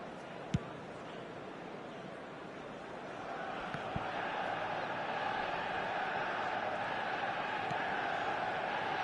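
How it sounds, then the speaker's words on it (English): A stadium crowd in an eFootball match sends up a broad, rushing roar that swells and stays loud, with a couple of sharp clicks early on. "The crowd reaction tells you just how close that was."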